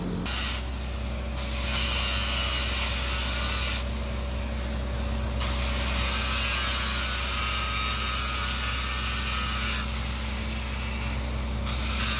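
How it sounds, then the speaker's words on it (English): A bolt is worked loose from a steel trailer tongue with a tool, producing continuous rasping, ratcheting mechanical strokes, fairly loud and close, in long bursts with brief pauses between them. "So I'm gonna remove this bolt, pop this chain off."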